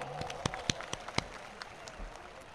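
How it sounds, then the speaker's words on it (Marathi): A short burst of hand clapping from a modest crowd at a political rally, several sharp claps standing out over a soft patter, fading out toward the end. "त्यांनी टाळ्या वाजवून त्यांचं स्वागत करावं"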